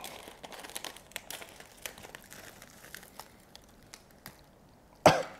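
Plastic packaging of tamago gani, little crabs, crinkling and rustling up close as it's opened, small scattered crackles ending in one louder snap.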